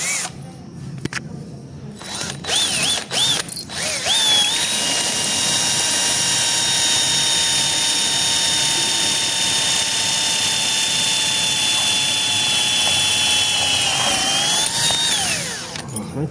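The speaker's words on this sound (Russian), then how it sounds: "Здесь вот решили посверлить и ее притянуть." A power drill boring into a door during office installation work, a steady loud whine running for about ten seconds after several short bursts, with the pitch sagging and rising at the end.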